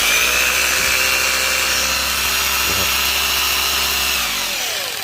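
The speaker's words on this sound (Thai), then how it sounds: "ตัวนี้ก็เป็นสว่านจอบปูนนะครับผมสามารถใช้ได้" A hammer drill runs continuously at full speed, a loud steady mechanical whine and rattle with a brief dip in the middle, close up.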